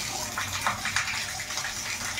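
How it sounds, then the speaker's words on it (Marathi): Water runs steadily from a spring at a temple, a continuous gushing, splashing flow heard fairly near and moderately quiet, with no voices. "मला असं वाटतं इथून पाण्याचं उगम होतं आणि पाणी असं खाली जातं."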